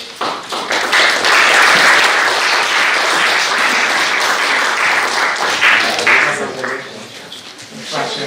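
Hearty applause from an audience at a school quiz in Kadetnica honoring the team mentors, loud continuous clapping that swells and then tapers slightly toward the end.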